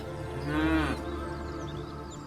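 A dairy cow gives a single short moo, fairly loud and close, over a steady low background hum.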